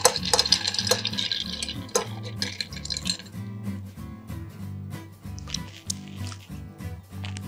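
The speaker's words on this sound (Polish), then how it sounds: "a teraz uzupełnię koktajl lodem. Mieszamy klasycznie 15-20 sekund." Ice clinking and scraping as a bar spoon stirs a Remember the Maine bourbon cocktail in a mixing glass, a busy rattle at first that settles into softer, rhythmic swirling knocks.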